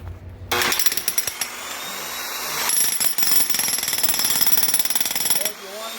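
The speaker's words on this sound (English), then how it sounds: "just got a chisel on that" Loud, rapid hammering of a chisel bit breaking concrete in a garage, running almost continuously with a brief pause midway before stopping.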